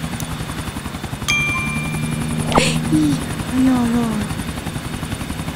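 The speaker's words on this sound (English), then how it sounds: "There is an helicopter." Helicopter in the video game GTA 4, its steady rhythmic rotor chop thrumming loudly throughout as a player talks over it and brief game sound effects cut in.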